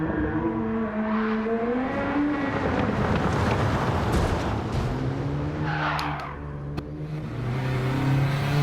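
A race car engine in Gran Turismo 7 revs hard and loud throughout, its pitch rising and falling through gear changes, with brief tire squeals and skidding mixed in and no talking.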